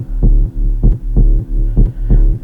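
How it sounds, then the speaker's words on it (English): An edited 808 bass patch from the Serum 2 synth plays a dirty bass line of loud, deep, booming notes in a steady throbbing rhythm, about six hits in quick succession. "which is just an 808 patch from Serum 2, which I just edited for the track"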